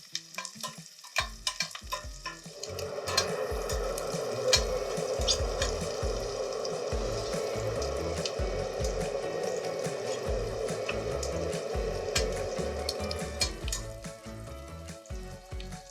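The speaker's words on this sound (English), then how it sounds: "So I'm just going to brown up the veg." Vegetables, including carrot, browning in fat in a cast-iron pan for roast beef gravy, a loud continuous sizzle with frequent clanks and scrapes of stirring, no talking.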